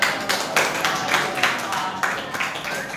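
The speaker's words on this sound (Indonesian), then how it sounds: "Tepuk tangan." A small group in a classroom claps together in a steady, fairly loud burst of applause, with faint voices mixed underneath.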